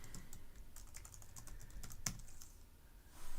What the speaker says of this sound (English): I'll select Enter on the keyboard to save